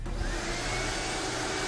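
A vacuum cleaner runs at close range with a loud, steady roaring drone and a deep low hum underneath. It holds constant throughout, with no talking.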